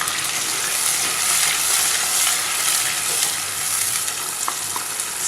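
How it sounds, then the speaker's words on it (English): Onion and coconut paste frying in a pan, a steady loud sizzle with faint stirring scrapes, close up and without talk. "Stir it till the onion becomes golden."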